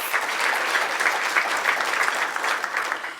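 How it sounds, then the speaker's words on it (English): Audience applause at a Surrey Board of Trade event honouring City of Surrey councillors, a steady dense wash of clapping from a room full of people lasting throughout, fading slightly at the end. "Let's give them a round of applause."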